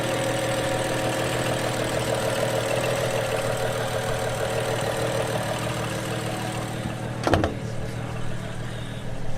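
A 2012 BMW 335i M-Sport engine idles steadily with a broken pulley and no belt fitted, a close, even running drone with a brief clatter near the end.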